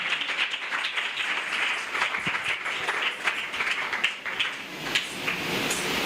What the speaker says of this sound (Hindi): जोरदार तालियों के साथ खुदा के खादम को वेलकम करते हैं।